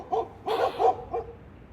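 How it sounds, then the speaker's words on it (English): A dog barks a few times nearby, short sharp yaps spread over under two seconds against a quiet indoor background. "there's a dog."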